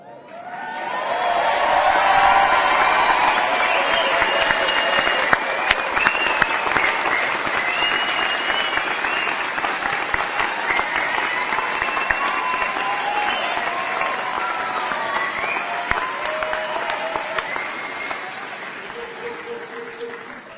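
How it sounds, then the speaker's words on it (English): Long, full round of audience clapping at a university graduation ceremony for the School of Arts and Media, rising quickly and holding steady and dense for about twenty seconds before thinning, with a few faint voices underneath. "You're not done clapping."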